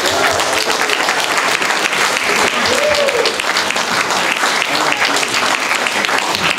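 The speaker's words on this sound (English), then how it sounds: "Let's give Ed a round of applause." An audience claps at a presentation in steady, dense applause that holds at full strength for several seconds, close and loud.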